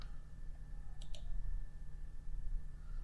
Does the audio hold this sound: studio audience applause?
no